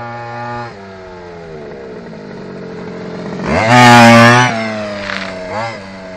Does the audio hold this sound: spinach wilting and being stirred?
no